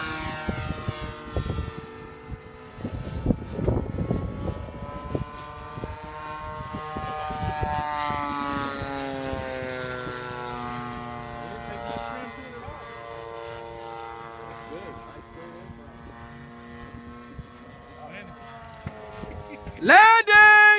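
A Zlin Z50 propeller airplane's engine drones with a rising and shifting harmonic tone that grows and holds steadily, under announcer-style commentary early on, ending in a loud burst.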